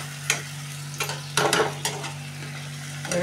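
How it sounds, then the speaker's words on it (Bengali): Potatoes and spice paste stir-fried in a pan for a Bengali chitol fish curry: a few separate scraping strokes of a spatula over a steady low hum, each stir loud and close, with quiet gaps between them. "ভালো করে কষে নেব"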